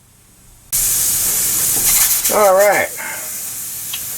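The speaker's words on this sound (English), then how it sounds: "the sound you hear in the background, the pressure cooker is already doing its thing." A pressure cooker hisses and steams in a loud, continuous rush of steam while cooking beef and bean chili, with a person speaking briefly over it.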